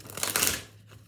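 A deck of tarot cards is shuffled in one quick, close riffle lasting under a second, then the room goes quiet.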